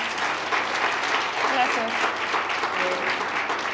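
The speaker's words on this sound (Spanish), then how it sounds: "Vamos a darle otro fuerte aplauso, por favor." Sustained audience applause from a school assembly of young students, dense and steady throughout, with a voice briefly speaking over it.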